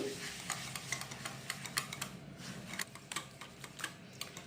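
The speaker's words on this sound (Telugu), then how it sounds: "షుగర్ అంతా మెల్ట్ అయ్యే వరకు ఇలా మిక్స్ చేసుకోవాలి" Sugar and butter cake batter whisked by hand in a bowl, a steady run of quick scraping, clicking strokes close up, with no talking.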